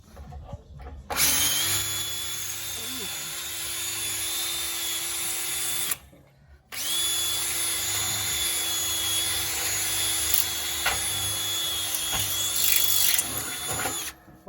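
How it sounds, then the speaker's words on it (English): A power drill with a suitably sized bit bores a hole while building a homemade tandoor. It whines loudly and steadily for several seconds, stops briefly, then runs again at a steady pitch. "Right size drill bit for that."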